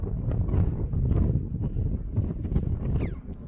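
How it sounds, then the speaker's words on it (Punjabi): Strong, cold wind buffets the microphone high in the Ladakh mountains near Leh, a steady low rumbling roar with gusts that rise and fall throughout, no voices present. "ਤੇ ਹਵਾ ਚੱਲ ਰਹੀ ਹੈ ਤੁਹਾਨੂੰ ਪਤਾ ਲੱਗ ਰਿਹਾ ਹਵਾ ਕਿੰਨੀ ਚੱਲ ਰਹੀ ਹੈ"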